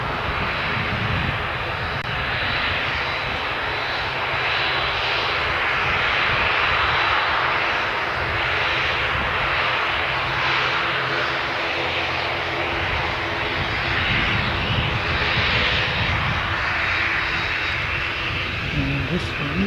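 ATR turboprop airliner bound for Invercargill, its engines droning loud and steady throughout with a broad roar and no break; no talking heard.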